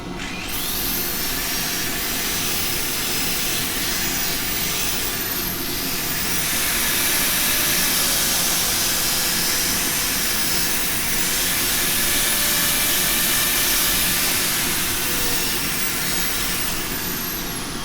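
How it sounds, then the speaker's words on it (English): A steady, loud whirring drone of sanding wood spinning on a lathe, running continuously with a constant broadband hiss and no talking. "So let's get some sanding done."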